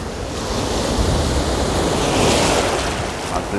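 Sea waves break continuously on the shore at Anapa in cold weather, a loud, broad wash of surf and wind noise that swells and recedes with no voices.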